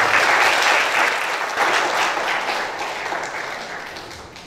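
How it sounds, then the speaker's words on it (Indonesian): An audience at an international seminar on inculturation in the history of Catholic missions gives warm, sustained applause that slowly fades. "Kita beri aplaus yang meriah."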